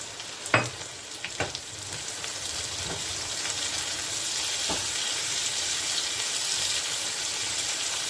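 Bitter gourd fries in a pan with salt and nigella seeds, giving a steady broadband sizzle throughout, with a few sharp clinks of a utensil against the pan near the start.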